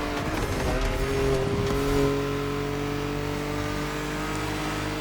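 A BMW M2 engine in The Crew Motorfest revs hard through the first couple of seconds, then settles into a steady, droning engine tone. No voices are heard.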